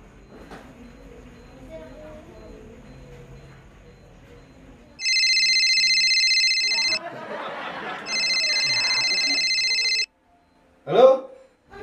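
A telephone rings during a call in an Indonesian comedy short, two long electronic ringtone bursts separated by a short gap, heard after some quiet background noise and followed by a brief sharp sound.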